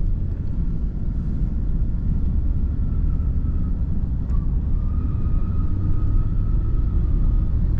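A 1989 Cadillac Brougham sedan on the move, heard from inside as a steady low road and engine rumble with a constant smooth drone throughout.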